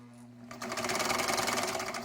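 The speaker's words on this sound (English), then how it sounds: "sewing machine is running." A Singer VS-2 sewing machine whirs into motion after a short pause and runs at a steady fast rhythmic clatter while winding a bobbin, close and clear.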